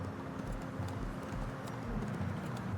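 Deer hoof footsteps in the video game FiveM, a quick run of hollow clip-clop steps, close and fairly even, with no talk.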